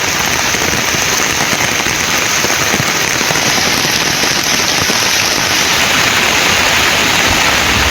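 Heavy rain pours steadily onto flooded streets in Belur near Vazhapadi, a dense continuous roar of water without pause and with no voices.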